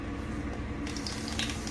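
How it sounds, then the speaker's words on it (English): Grease sizzles and crackles steadily in a hot pan for Southern cornbread dressing, a constant hiss with a few brighter spits toward the end. "And you'll hear it sizzle, should."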